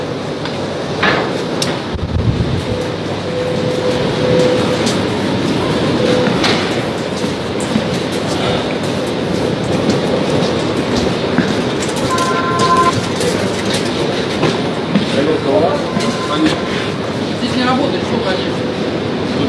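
A St Petersburg metro train runs through the underground, a steady loud rumble of wheels and carriage noise with clanking and brief tonal squeals, while people talk nearby.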